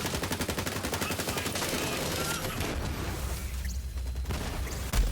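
Rapid gunfire from a weapon in Borderlands 3, fired at enemies on a proving grounds map, rattles off in a dense, fast stream of shots for most of the stretch before thinning out, with a thump near the end.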